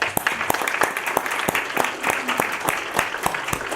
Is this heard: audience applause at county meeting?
yes